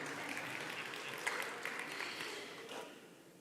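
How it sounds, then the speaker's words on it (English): Church congregation at a Sunday morning Unity celebration service clapping their hands in a chilly hall to warm up, a soft, continuous spread of clapping heard from a distance that slowly fades toward the end. "So keep clap again."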